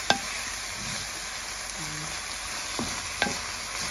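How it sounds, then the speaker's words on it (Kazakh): Cabbage filling with salt and pepper stir-fried in a pan gives a close, continuous sizzle, with a few scraping spatula strokes standing out above it. "жақсылап қуырып аламыз"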